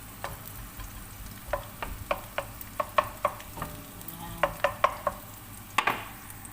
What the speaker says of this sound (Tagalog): Ilagay natin yung bawang.